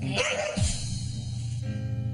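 A dog that has attacked people lets out a short, sharp bark or yip up close, followed by a low, steady rumble of background noise.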